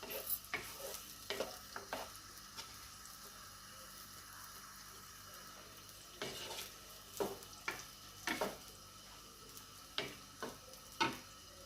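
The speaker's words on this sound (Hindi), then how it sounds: "मसाला इसलिए फ्राई कर रही हूँ" Onions, ginger and masala frying in a cup of oil in a pan for fish curry, with a steady low sizzle broken by sharp scraping stirs and clinks at irregular intervals, close and fairly quiet, no talking.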